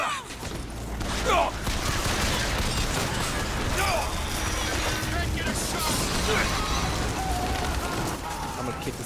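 Video game gunfire from Bioshock Infinite crackles in rapid bursts amid mechanical clatter and crashes, a dense, busy mix of weapon fire and action effects running throughout at moderate loudness.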